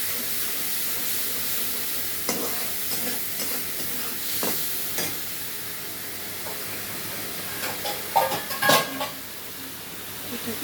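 Ginger spice water poured into frying masala, giving a steady sizzle and hiss with intermittent spoon scrapes and clinks against the pot, which grow louder near the end.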